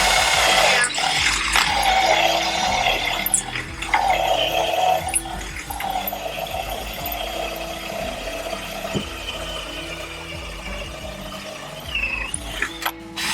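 Well-worn DeWalt power drill at work during a sailboat upgrade, giving ratcheting, grinding mechanical whirs in several bursts with pitch changes and pauses, close and fairly loud, with no speech.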